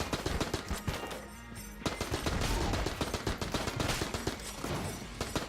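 Rapid AK-47 automatic fire in the Enter the Gungeon shooter, dense bursts of loud close shots with a brief pause near the start, followed by continuous rattling gunfire.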